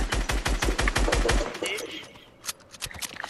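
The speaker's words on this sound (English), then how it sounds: "Oh, who's shooting at me?" Rapid automatic gunfire in Fortnite, a close, loud burst of evenly spaced shots for over a second, followed by scattered quieter shots and game effects.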